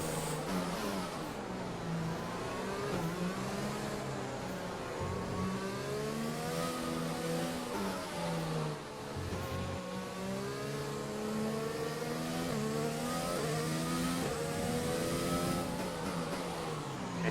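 A Formula 1 car engine in an F1 racing game at the Singapore Grand Prix, a loud, continuous whine that rises and falls with revving as the car dives into the pit lane and slows.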